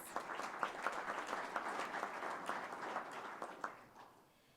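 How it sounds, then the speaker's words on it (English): An audience applauds at a teacher-of-the-year program, a moderate wash of many hands clapping steadily and fading out near the end, heard alone without speech. "Let's give them a round of applause, please."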